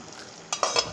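Kpomo, or cow skin, drops into a pot of Calabar-style Edikang Ikong soup, making a short burst of three quick splashy stirring and sizzling sounds close by after a quiet start.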